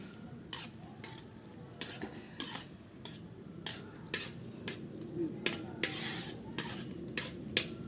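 Food fries in a pan with a soft sizzle beneath repeated scraping and clinking of a metal spoon stirring against the pan, close and fairly quiet.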